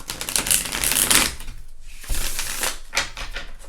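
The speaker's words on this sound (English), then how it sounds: "These cards are very loud to shuffle." A Halloween-themed tarot deck being shuffled loudly, with dense rapid riffling bursts and brief pauses between runs, close and crisp with no talking.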